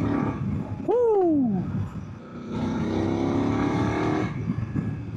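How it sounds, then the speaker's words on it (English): A BMW F800 GS motorcycle engine and exhaust drone steadily during a riding demo, with a rising and falling rev sweep early on followed by a sustained higher-pitched run, close and moderately loud under wind rush. "Really curious to see if it picks up any exhaust noise."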